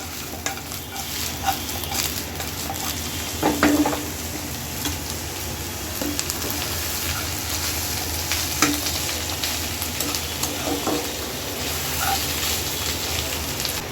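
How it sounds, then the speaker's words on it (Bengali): Small kachki fish fried with vegetable stems and potatoes are stirred and turned in a pan, giving a steady close sizzle with occasional scraping clicks of the spatula for about fourteen seconds. "এখন আবার একটু উলট পালট করে দেই।"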